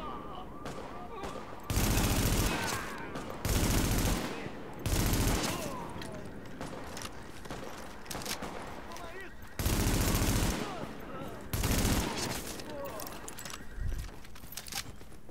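Gunfire in the video game The Division comes in loud, sharp automatic bursts separated by short pauses, with quieter background game noise between them.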